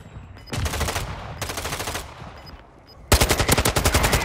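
Warzone 2.0 gunfire in Al Mazrah, loud bursts of rapid automatic shots, two volleys at first and then a harder, closer stream of distinct cracks at the end.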